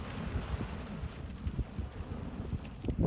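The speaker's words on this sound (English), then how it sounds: "Ooh, that wind is really kicking up." Gusty wind buffets the microphone outdoors in the countryside beside a burn barrel, a low rumbling roar that swells and dips in uneven bursts and grows stronger at the end, with no talking.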